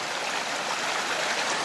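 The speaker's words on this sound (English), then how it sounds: "This noise here, my friends, is the noise of running water." Steady rushing water of a waterfall, a dense continuous broadband roar with no pauses, close and fairly loud throughout.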